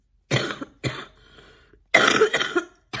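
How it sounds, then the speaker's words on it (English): Several harsh, wet coughs from one person close by: two separate bursts, then a pause and a longer cluster of coughing, with no talking. "my cough does sound really bad"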